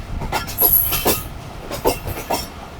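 The Karakoram Express rushes along at speed, a loud steady rumble of wheels on rails with rhythmic clacks and brief high squeals of metal.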